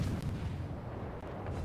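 Secondary ship guns fire in World of Warships as a dense, continuous roar of booming artillery and explosions, loud and rumbling throughout with no clear gaps.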